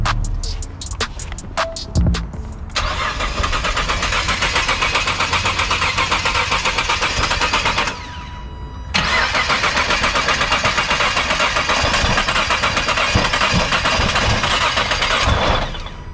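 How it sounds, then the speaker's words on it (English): A smashed 2018 Nissan GT-R engine cranks without firing: a few clicks, then two long, loud stretches of steady starter whirring separated by a brief pause, with no catch or idle. "but as you guys can tell, it is not firing up"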